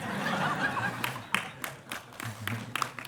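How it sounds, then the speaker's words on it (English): Brahmacharis clapping at a devotional retreat talk, scattered sharp claps from a small group mixed with light chuckling and murmuring, uneven and sparse rather than a full ovation. "Hey, the brahmacharis are clapping."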